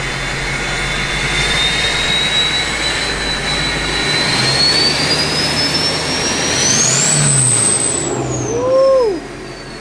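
A loud twin-turbo engine in a Chevrolet C10 truck roars steadily, then revs up with a rising turbo whine before cutting off abruptly near the end.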